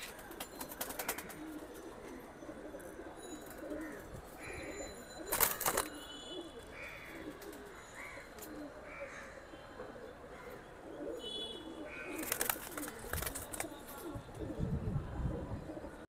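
Caged pigeons cooing at a pigeon market, soft repeated coos rising and falling at moderate distance, with sharp clicks and rustles of handling in the cages and occasional faint voices nearby.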